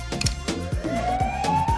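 An ambulance siren wails with a rising electronic tone, paired with a rhythmic low pulsing and passing vehicle noise, steady and moderately loud throughout the short stretch.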